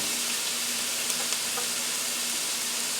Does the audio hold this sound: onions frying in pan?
yes